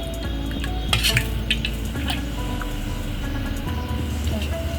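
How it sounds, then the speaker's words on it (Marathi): A spoon or whisk stirs ghavane rice batter in a bowl before it goes onto the oiled pan, soft scraping and clinks under a steady kitchen background hum. "टाकायच्या आधी मिक्सर चांगला हलवून घ्या"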